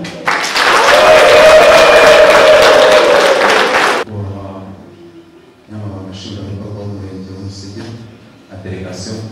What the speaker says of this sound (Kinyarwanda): natwe twese twakirane twiha amashyi ndetse n'impundu